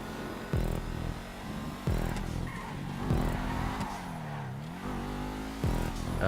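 A Massacro racecar engine drones and revs through a GTA Online stunt race, with repeated sharp gear-shift drops and a rising, falling pitch, loud and steady with no talk.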